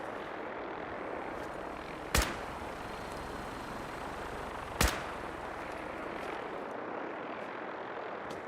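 Two sharp gunshots crack about three seconds apart over a constant roaring, wind-like background in a video game set at Dunwich Borers.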